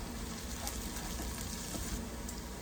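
Cumin (jeera) seeds frying in hot mustard oil give off a steady, fairly loud hiss and sizzle, broken by a few faint pops and crackles and heard alone without talk.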